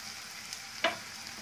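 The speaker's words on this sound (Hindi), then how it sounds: "अब इसको अच्छे से फ्राई करेंगे।" A quiet, steady sizzle of Kashmiri red chillies, whole cumin seeds and a torn bay leaf frying in oil, with one brief louder crackle partway through.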